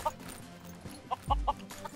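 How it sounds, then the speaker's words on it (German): Chickens in the game Minecraft give several short, close clucks, scattered in a quick burst near the end of the moment. "Da sind noch ein paar Hühner."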